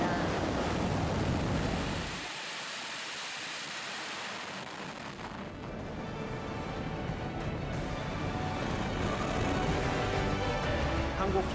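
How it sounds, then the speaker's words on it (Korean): A Nuri rocket lifts off in a broad, rushing roar heard from a distance, swelling and surging with wind-like noise; a voice speaks over it. "누리호가 발사됐습니다. 발사되었습니다."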